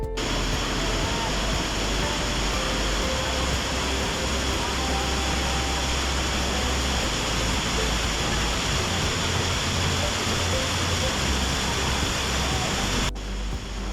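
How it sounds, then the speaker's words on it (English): Pali waterfall near Valpoi in Goa, a tall fall over shallow pools, gives a steady, loud, broadband roar that stays even and continuous before cutting off near the end. "This is Pali waterfall, right?"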